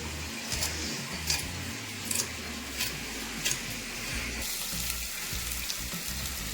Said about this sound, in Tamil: குருமாவது வெங்காயம் தக்காளி இஞ்சி பூண்டு எல்லாமே நல்லா வதங்கிடுது